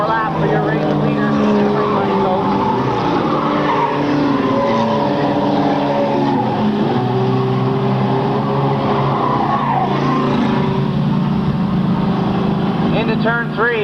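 Stock cars, including a Cavalier, race around a 1998 short track, engines roaring loud and continuous with rising and falling pitch as they pass, under an announcer's steady commentary.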